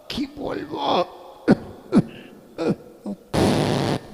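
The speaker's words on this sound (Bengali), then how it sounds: "কাশছে আবার পেছন দরজা দিয়ে কিরকম আওয়াজ বেরোচ্ছে।" An older man coughing and clearing his throat, with a few short bursts of breaking wind, in a comic sketch. The sounds are close and loud, with a voice heard between them.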